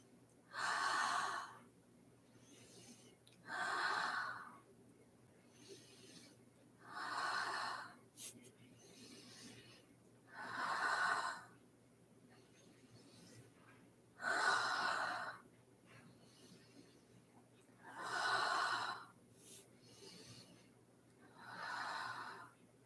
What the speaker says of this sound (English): We will do 5 Ujjayi breaths. Breathe in from your nose and exhale from your mouth.